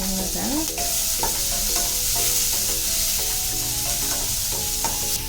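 Onions and green chilies for masala dosa filling fried in a pan, a constant sizzle under repeated clinking, scraping stirs of a spatula, close up and with no voices.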